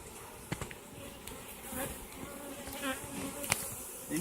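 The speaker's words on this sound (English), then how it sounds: "Then you shake your bees." Honeybees buzz continuously at close range while being shaken in a jar with powdered sugar for a varroa mite test, with a few sharp knocks and rattles over the drone.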